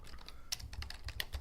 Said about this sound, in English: I'm just typing in Bill Gates Jellicle